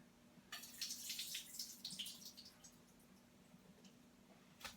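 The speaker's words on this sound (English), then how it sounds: "So this is one small can of black olives. Okay, and I'm going to drain off the water." Water drains from a small can of black olives into a sink in a home kitchen, a faint splashing trickle lasting a few seconds and tapering into quiet drips.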